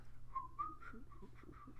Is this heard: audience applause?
no